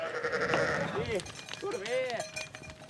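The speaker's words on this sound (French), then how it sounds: "Ces brebis lacones sont les stars du plateau." Lacaune ewes bleat on an open plateau, several wavering calls rising and falling close by, with an overlapping voice speaking through the first half.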